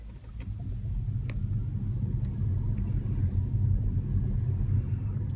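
A Tesla Model S pulls away with a low, steady rumble of tyres and road noise that stays even, with a couple of faint clicks and no voices.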